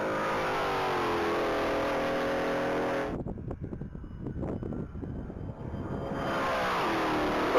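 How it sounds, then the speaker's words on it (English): Silver 2021 Dodge Challenger SRT Hellcat at a one-mile top-speed racing event, with loud sustained engine roar that briefly drops into broken, rumbling noise before the steady roar returns. "Going down the track is Brian Howard in a silver 2021 Dodge Challenger SRT Hellcat."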